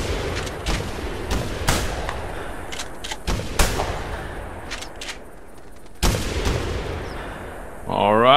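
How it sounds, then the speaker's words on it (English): Shotgun blasts in theHunter fired at a flock of birds, with a Labrador retriever along; a string of loud, irregular shots rings out over about seven seconds, followed by a voice at the end. "I'm shooting from the back of the flock"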